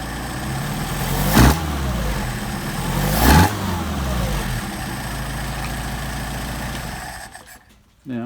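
A Mercedes 190SL engine fitted with Solex 44PHH carburetors idles steadily and loud at close range, with two brief blips of raised revs early on before the idle settles and then cuts off near the end.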